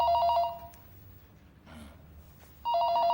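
A telephone rings in an office, two bursts of a bright electronic ring separated by a quiet gap, fairly close and clear with no talking.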